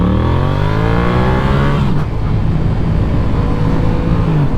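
Yamaha MT-07 motorcycle engine heard loud and close as it pulls away and accelerates, a strong rising growl with climbing pitch, then a brief shift and a steady roar continuing, with no talking.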